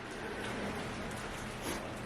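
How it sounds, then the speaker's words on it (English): Heavy rain pours steadily around a Nissan project car in a workshop, a dense, even hiss that holds at the same level throughout with no voices. "maybe if the rain stops coming down so hard"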